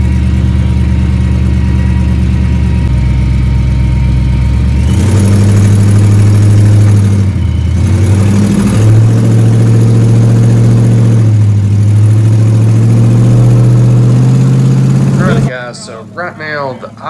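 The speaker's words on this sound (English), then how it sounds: "right now the idle is still sitting really high on the tune-up and stuff on the car" A supercharged 1955 Chevy V8 with a Vortech V3 blower idles high and loud close by, a steady droning rumble with a slight rise in pitch partway through, cutting out near the end under brief talk.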